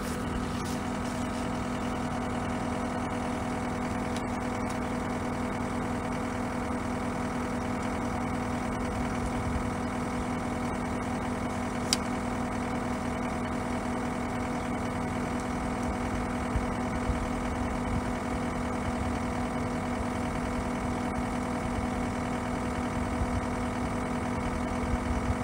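A tractor engine idles steadily nearby in a rural fencing setting, a constant mid-pitched rumble with a faint knocking rhythm running unbroken for the whole stretch, without talk.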